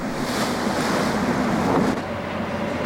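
Ocean swell and waves wash against a sailing boat on the icy Pacific, with steady loud water and wind noise buffeting the microphone throughout.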